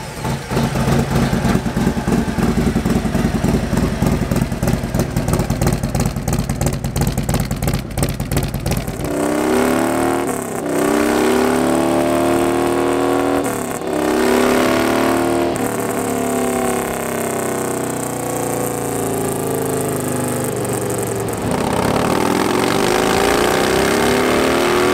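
A Harley-Davidson M8 107 motorcycle engine with a performance upgrade runs on a dyno, first a rough, pulsing idle, then a loud, sustained rev climbing through the gears, easing briefly and rising again close by.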